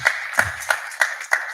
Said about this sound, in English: clap for Rachel, guys